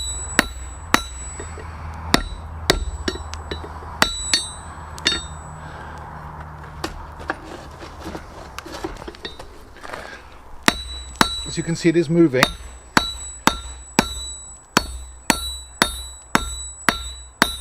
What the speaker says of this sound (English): I'm hitting it with the edge of the hammer